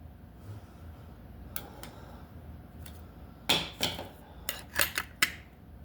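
Spanner wrench and metal parts clinking while the blade is swapped on a cutoff wheel, with a quiet stretch followed by a quick cluster of sharp, close metallic clicks and taps.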